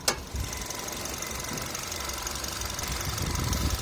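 A Nissan Grand Livina 1.5 SV manual with the HR15DE 1500 cc four-cylinder engine idles steadily with the hood open, a close, even mechanical hum throughout, beginning with a brief sharp click.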